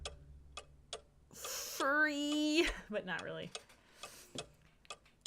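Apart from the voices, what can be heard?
clock ticking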